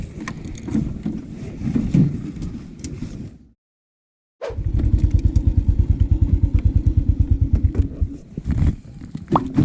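A motorcycle rumbles close by, its engine running unevenly with clatter, briefly cut out, then returns in a steady rapid pulsing throb as riding resumes.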